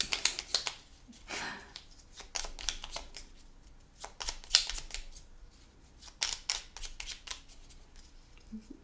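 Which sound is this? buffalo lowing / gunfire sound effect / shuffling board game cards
shuffling board game cards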